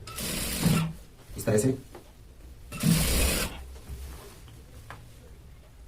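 A tailor's sewing machine stitching a shirt runs in short bursts between pauses, its rattling whir close by, while a woman explains the work in between.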